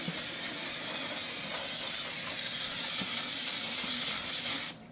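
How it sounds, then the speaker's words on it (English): Brake cleaner spray blasting dirt and brake dust off the rear brakes of a Mustang GT, a close hissing spray in rapid pulsing bursts with a sustained final blast, then stopping abruptly. "We're gonna go ahead and just blast off any of the dirt, cobwebs, brake dust."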